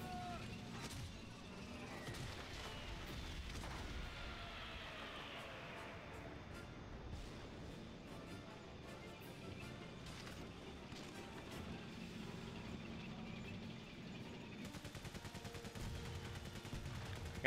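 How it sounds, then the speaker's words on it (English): Artillery fire and scattered gunfire rumble and crack through a World War I battle in the video game Valiant Hearts: The Great War, fairly faint and mixed with game sounds, with repeated distant booms. "Got some artillery."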